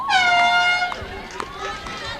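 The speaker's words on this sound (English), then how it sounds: "Now, I thought they did away with the air horns at high school games." Air horn blown at a high school softball game, a loud sustained blast at the start that trails off under crowd noise and a voice talking nearby.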